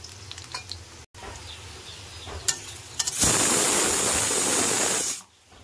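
Potatoes and vegetables fry in a pan with a soft background sizzle, then a sudden loud burst of hissing and crackling for about two seconds before fading away.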